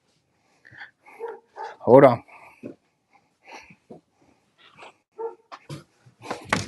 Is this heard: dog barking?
yes